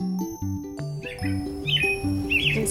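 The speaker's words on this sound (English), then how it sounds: "you can hear songbirds singing in your neighborhood, out your window, in the trees." Songbirds chirp and tweet in short bright calls, heard alongside a steady stepped electronic or musical tone pattern that runs through the whole passage.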